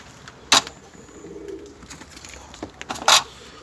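Kept pigeons coo softly nearby, a low murmuring call mixed with a few sharp clicks and rustles, with no talking.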